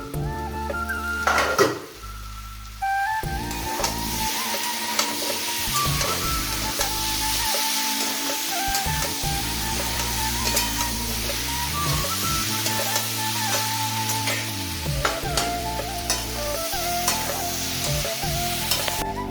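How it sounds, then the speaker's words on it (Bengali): Fried pointed gourd pieces are stirred in a hot frying pan, giving a continuous loud sizzle with repeated scraping and clinking of a spatula against the pan and no talking. "এবার পটলগুলো দিয়ে দিলাম ভাজা করে রেখেছিলাম যেগুলো"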